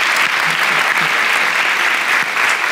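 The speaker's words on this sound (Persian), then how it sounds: "تشویقش کنیم" Steady, dense applause from a studio audience fills the whole stretch, loud and close, with a few faint voices mixed in underneath.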